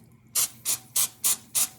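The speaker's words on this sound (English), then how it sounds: "I'm just gonna give it a quick spray." Cooking oil sprayed from a pump bottle onto a GIPP nonstick pan comes as five short, evenly spaced hissing bursts, close and crisp, with no talk.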